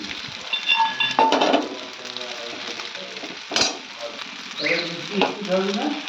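Chowmein with peanuts added frying in a pan, a close sizzle broken by bursts of scraping and clinking as it is stirred, with a voice speaking over it.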